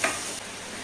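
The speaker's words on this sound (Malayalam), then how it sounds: "ഇനി നമ്മൾ ആ നെയ്യിലോട്ട് തന്നെ ഗ്രേറ്റ് ചെയ്ത് വെച്ചിരിക്കുന്ന ക്യാരറ്റ് ഇടുക." Grated carrot hits hot ghee in a pan, giving a steady broadband sizzle with a brief louder burst at the start. It sounds close, even and alone, with no talking.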